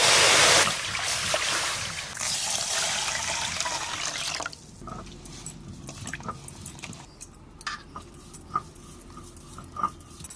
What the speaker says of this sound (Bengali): এবার ঢেলে নিয়ে জল দিয়ে ধুয়ে নেব